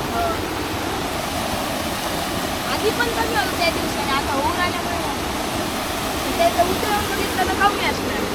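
Water rushing down a waterfall in the Konkan countryside, a loud, dense and constant roar close by, with people talking faintly over it at times.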